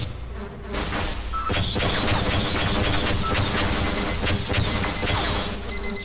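Gunfire in the video game Half-Life, a rapid buzzing stream of shots that starts after a short quiet moment and runs on steadily and loudly to the end.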